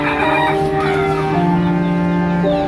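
Chickens cluck and murmur continuously in a busy flock, with a rooster-like call rising over the steady background chatter of the birds.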